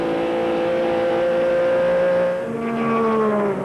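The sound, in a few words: NASCAR Busch Grand National race car driving down the back straightaway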